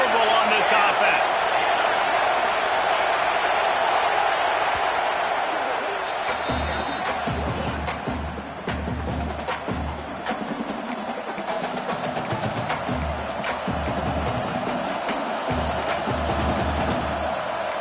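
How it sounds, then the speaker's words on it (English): A loud stadium crowd roars continuously on fourth down in an American football game, with a sustained wall of cheering and noise under a play-by-play announcer talking throughout. "4th down, and this crowd is making it miserable on this offense."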